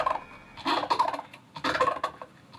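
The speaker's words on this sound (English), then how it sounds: "So that is literally rubbing a pumpkin." Squeaky, rubbery squeals and creaks from a pumpkin being rubbed, coming in a few uneven bursts with short pauses between, close up.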